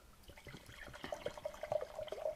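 Red wine poured into a glass, a steady close liquid trickle and splash building in level over a couple of seconds, with no voices.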